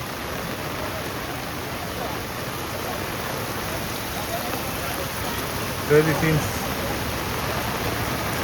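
Steady rain hisses down over an outdoor fish market in a continuous, even wash, with a brief voice breaking through partway.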